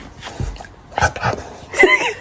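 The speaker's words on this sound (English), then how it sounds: "He's like growling" A dog gives a growling sound that comes as a few short, close, rough bursts with whiny edges, loud against a quiet room.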